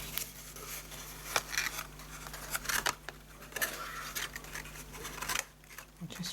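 Scissors snip through card flaps while making a handmade gift box for trading cards, with a quick series of close, crisp cuts and light paper rustles at a quiet level.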